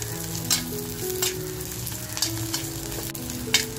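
Grated coconut frying in a pan while being reddened for a Sunday mutton meal, giving a steady close sizzle with occasional stirring scrapes and no talk.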